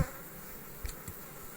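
Honeybees buzzing at an opened beehive, a soft steady hum with a few brief louder passes of individual bees close by, no speech.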